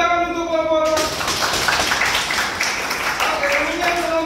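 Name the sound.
applause for group 4 in a classroom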